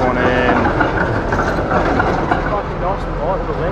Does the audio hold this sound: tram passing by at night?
yes